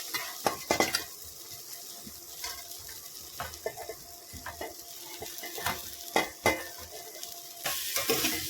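Okra tipped into a pan of fried onion and tomato sizzles softly while a spoon scrapes and clacks against the metal in irregular bursts, close and fairly quiet.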